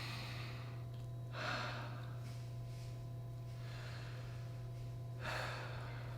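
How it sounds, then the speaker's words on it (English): A patient takes deep breaths in and out during a lung exam, heard as two soft, airy swells a few seconds apart over a steady low room hum. "Take a deep breath in and out."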